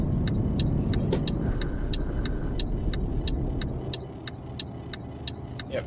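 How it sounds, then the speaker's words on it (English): A truck engine idles with a steady, loud drone in Euro Truck Simulator 2, accompanied by a regular ticking like an indicator clicking throughout. "The engine's still on."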